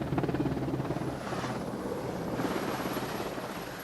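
A helicopter flies beside the light aircraft carrier HMS Invincible, its rotor thudding steadily and loud with a continuous engine roar throughout.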